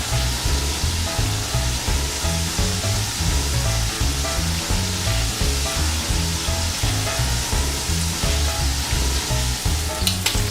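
Shrimp sizzle loudly in a frying pan as they are flipped, a dense continuous hiss with steady rhythmic stirring and turning noises close by throughout, and no voices.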